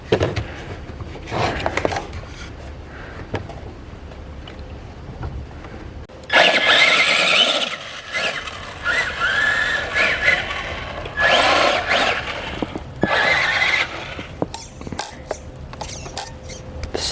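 A Traxxas Rustler RC car fitted with a cheap Amazon motor runs close by. It makes a high, whirring electric whine in several revving bursts, with faint mechanical rattles in the quieter gaps.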